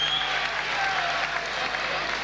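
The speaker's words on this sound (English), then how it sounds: "he deserves the applause of the crowd" Crowd applause fills a boxing match venue, a steady dense wash of clapping and cheering that holds at an even level throughout, with no distinct voices on top.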